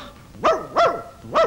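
Three loud barks from a dog, evenly spaced about a third of a second apart, close by with no talking over them.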